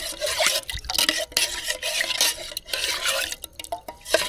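A spoon stirs powdered milk into liquid for milk-based pitha, making a steady, close swishing and scraping against the bowl, with a few light clinks and no talking.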